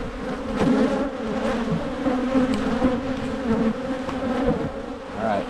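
Honey bees hum in a dense, continuous drone at an opened hive during early spring colony work, close and steady, with no talk.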